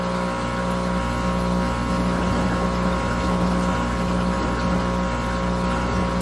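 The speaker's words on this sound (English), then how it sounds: "I decide to use the overflow and the dry sump, and the pump started making noise." A noisy aquarium pump runs on a fish tank with an overflow and dry sump, giving a loud, steady droning roar with rushing water texture that never lets up, close and dense throughout.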